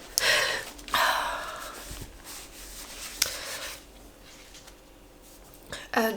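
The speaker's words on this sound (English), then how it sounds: "I need to blow my nose." A person blows their nose in several forceful, breathy bursts, with sniffs and rustling in between, close up and fairly loud, fading to quieter breathing before a final snort.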